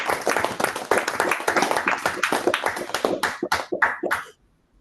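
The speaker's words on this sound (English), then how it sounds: "Please, can we clap for the president?" Several people clap for the club president during a Toastmasters meeting held over a call, a dense burst of applause that thins into a few final claps and then stops abruptly.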